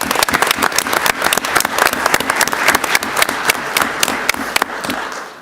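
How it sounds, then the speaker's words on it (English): Audience applause at a staff recognition event, steady dense clapping from a sizable crowd throughout, close and fairly loud. "Please give Michelle a round of applause."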